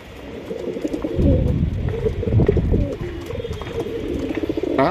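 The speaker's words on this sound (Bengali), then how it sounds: "ছাড়াছাড়ি লাইনের কবুতর" Racer and fancy pigeons coo in repeated low throaty phrases, several birds close by overlapping in a soft rolling chorus.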